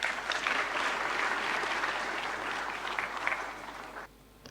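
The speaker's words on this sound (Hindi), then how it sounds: "तालियों के साथ स्वागत।" Audience applause welcoming a speaker at a conclave, a sustained wash of clapping from a sizeable crowd that fades and cuts off abruptly near the end.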